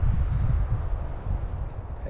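Strong, steady wind gusts buffet the microphone at a lakeside campsite in Algonquin Park in spring, a dense low rumble that fills the whole stretch with no voices.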